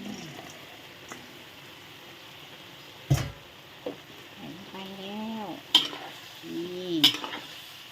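Chicken with ginger, bell pepper, onion and tomato being stir-fried in a pan, giving soft sizzling with intermittent scraping and clatter of a utensil stirring, a few louder knocks near the end, with no talking.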